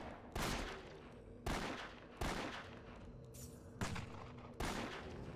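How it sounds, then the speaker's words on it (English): Five sharp pistol shots in Torchlight from a character dual-wielding pistols akimbo, loud and evenly spaced about a second apart, each with a short ringing tail over a steady game music bed. "Lara Croft dual wields pistols"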